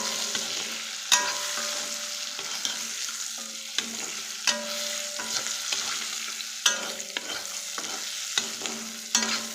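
Food fries in a pan for a two-person protein recipe, a steady sizzle broken by repeated sharp scrapes and clinks of a spoon stirring it, close and alone.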